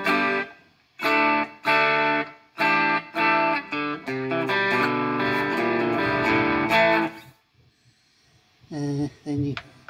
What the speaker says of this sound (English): You can hit it once and it's a little bit, you know, overdriven.